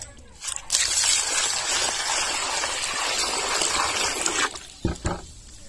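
Bami fish pieces are washed in water in a pot, with a sustained gushing and sloshing of water close by, followed by a few brief clattering splashes as it settles; a voice speaks briefly at the end.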